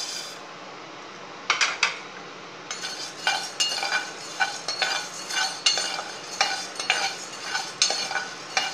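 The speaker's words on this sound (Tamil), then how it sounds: "அடுத்து வந்து மல்லியை வறுப்போம்." Coriander seeds are dry roasted in a pan, starting with a faint hiss, then rhythmic scraping stirs that rattle and rustle the seeds against the metal at a steady pace, close and clear.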